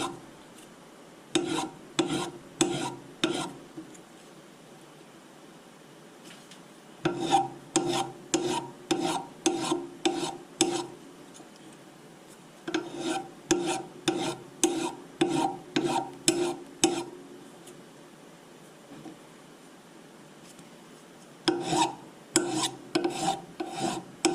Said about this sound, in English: I will get the sandpaper and then sand it all